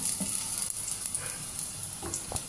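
Garlic sautés in a pan for mushroom soup, turning golden brown. A soft, steady sizzle continues with a few light utensil clicks, and nobody speaks.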